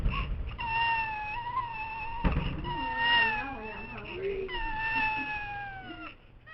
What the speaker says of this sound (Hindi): लगता है जैसे बिल्ली का बच्चा रो रहा है।